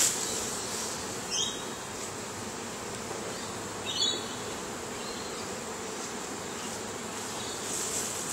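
Honeybees buzz steadily around an open hive during swarm-control work, a dense continuous drone with a couple of brief, closer passes rising above it.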